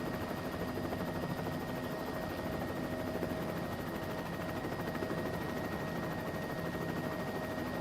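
Helicopter in flight in Microsoft Flight Simulator 2024, a steady dense rotor and turbine roar with faint whining tones, continuous and unchanging throughout.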